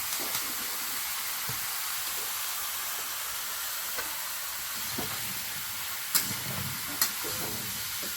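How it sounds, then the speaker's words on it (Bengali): Fish sizzles steadily in a covered pan over a village fire, a continuous frying hiss with a few sharp clicks near the end and no voices. "ঢেকে ঢেকে ভালো করে ভাজতে হবে ঢাকা দিয়ে দিয়ে ভালো করে ভেজে দিই"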